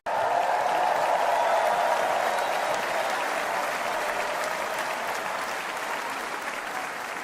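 Sustained applause from a large crowd at the 2024 Republican National Convention, a loud dense wash of clapping that starts abruptly and continues steadily, tapering only slightly.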